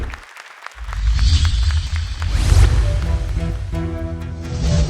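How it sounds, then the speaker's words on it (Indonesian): Audience at a televised Quran recitation competition bursts into applause, a loud, broad wash of clapping rising after a short pause, with some music entering toward the end. "tepuk tangan sekali lagi dong para orang tua juga untuk Hani"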